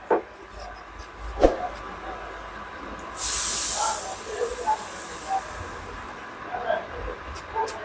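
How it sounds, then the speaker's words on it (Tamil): A dye bath hisses after sodium hydrosulfite (hydros) is added during home vat dyeing of synthetic fabric, a steady broadband spray-like rush surging loudly for about a second in the middle, with faint background noise and small clicks around it. "பாருங்கள் ஹைட்ரோஸ் எஃபெக்ட் ஆகுது ரியாக்ஷன் ரியாக்ஷன்ஸ் இருக்கும்"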